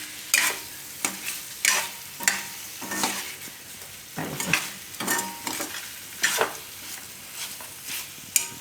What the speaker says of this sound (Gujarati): હવે એમાં આપણે નાખી દેવું લીલા ધાણા ઉપરથી અને મિક્સ કરી લેવું.